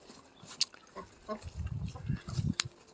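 A grumpy 600-pound pig on a farm gives low, rough grunts in short irregular bursts at moderate distance, with a few sharp clicks mixed in and no talk.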